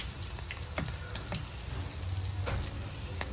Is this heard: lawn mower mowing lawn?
no